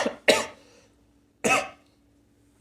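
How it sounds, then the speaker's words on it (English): Two sharp, close coughs about a second apart, each fading quickly, followed by quiet room tone. "maybe I'll edit out my coughing"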